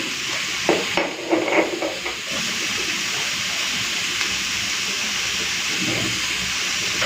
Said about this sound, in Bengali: এখন দিয়ে দেবো নুন আর হলুদ তারপরে ভালো করে ভেজে নেবো